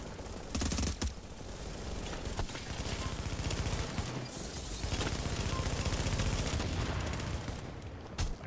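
Rapid gunfire with incendiary fire bullets in The Division, a dense, loud stream of overlapping shots and bursts running almost continuously, with no talk over it.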